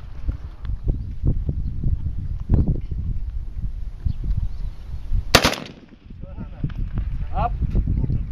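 Gunshots at a shooting range in Mongolia, a few sharp cracks scattered among the chatter, with one loud crisp report standing out midway, while family members talk and coach each other throughout.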